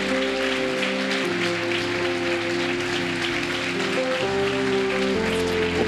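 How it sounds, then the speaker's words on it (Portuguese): A church congregation claps in thanks to God, soft, diffuse applause spread across the room beneath sustained keyboard chords playing throughout. "Pode aplaudir a Ele, vai."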